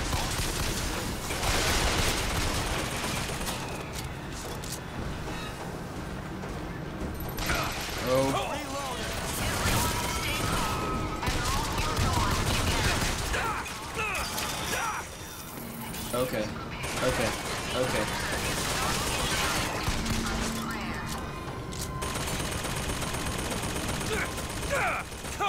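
Rapid gunfire from the video game Bioshock Infinite in the smokestacks of Columbia, with dense overlapping volleys and crashing impacts running loud and nearly continuous, while voices are heard underneath.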